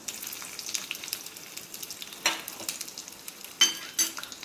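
Garlic and tempering seeds fry in hot oil with curry leaves and dried chillies, a continuous close sizzle with sharp crackles and a few louder pops from spluttering seeds.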